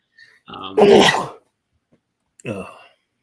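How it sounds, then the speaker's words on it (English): A single loud, explosive sneeze up close, with a short voiced sound a moment later. "I had to sneeze"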